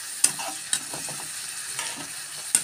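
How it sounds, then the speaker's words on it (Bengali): Whole cumin seeds fry in oil in a wok, a soft close sizzle broken by a few sharp metallic clicks of a spatula against the pan. "তারপরে কড়াইয়ের মধ্যে তেল দিয়ে, তারপরে গোটা জিরা দিয়ে"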